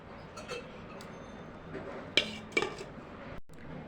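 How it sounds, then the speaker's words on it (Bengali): Cooled vegetables tipped from a mesh strainer into a bowl, giving a few soft thuds and light clinks of dishware over quiet kitchen background, with two brief clatters close by. "ঠান্ডা করে রাখা সবজিগুলো দিয়ে দিলাম বাটির মধ্যে"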